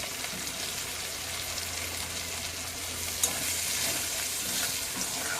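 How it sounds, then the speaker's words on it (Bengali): Turmeric, chilli powder and other spices sauté in a pan, producing a steady close sizzle with faint scraping stirs and one brief clink partway through. "দিয়ে মশলাটা একটু কষিয়ে নেব"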